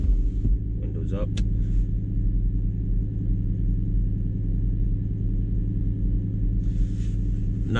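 BMW E60 M5 with a six-speed manual, idling after a cold start: a loud, steady low rumble that throbs evenly throughout, with a few faint brief sounds on top.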